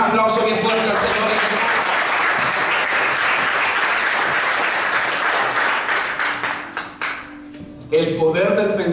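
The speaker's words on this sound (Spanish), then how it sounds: "Den un aplauso bien fuerte al Señor." A church congregation claps loudly and steadily for about seven seconds, the applause thinning out near the end before a voice resumes speaking.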